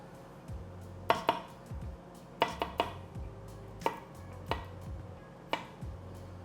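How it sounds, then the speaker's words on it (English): A knife chops an onion on a cutting board, with sharp close knocks in small clusters of two or three, spaced by short pauses and a faint low hum beneath. "Just your swipey swipes on the sideways, and then the verticals, and then chop."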